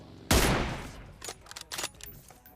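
Gunfire in the mobile battle royale game PUBG Mobile: a loud close burst opens, then fades into a quick run of sharper, quieter shots with no voices.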